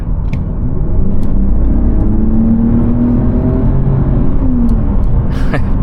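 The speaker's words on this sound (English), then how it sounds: "Let's test the acceleration on this car" A 2020 Mercedes-Benz GLE450 AMG-Line in sport mode accelerates hard from 70 to 100, its engine drone climbing steadily in pitch, heard close and loud from inside the cabin with no break.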